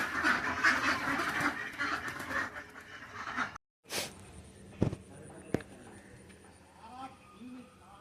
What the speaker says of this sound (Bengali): দেখো, এদিকটা হাঁস, অনেক হাঁস দেখো, সব গড়ে ঢুকে যাচ্ছে